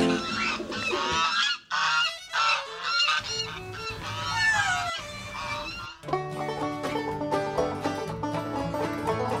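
Pet birds kept by a caretaker of about thirty birds give loud, goose-like honks and squawks in bursts; partway through, a layer of music with steady tones joins and continues under the calls.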